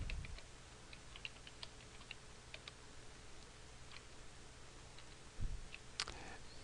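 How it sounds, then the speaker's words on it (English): Soft, quick keystrokes on a computer keyboard while entering text into an Excel 2010 spreadsheet, scattered light clicks over a faint steady hiss, with one louder knock near the end. "go to A18 and type goal amount"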